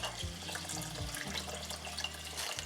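Water poured from a tap into a cooking pot holding two cups of rice, a steady continuous stream running for a few seconds with no talking.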